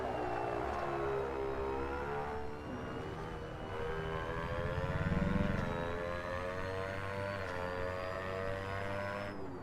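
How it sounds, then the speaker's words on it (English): Racing cars in the Assetto Corsa driving game pass by with a high, whiny engine drone that rises and falls in pitch, buzzing much like a small radio-controlled plane, steady and continuous without talk. "Sound like a little radio controlled plane when they pass"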